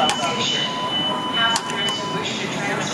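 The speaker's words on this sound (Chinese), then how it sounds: "他现在带我们坐区间车" A local commuter train in Taichung, Taiwan, heard from inside: steady loud rolling rumble with a faint whine and a brief knock, under a murmur of nearby voices.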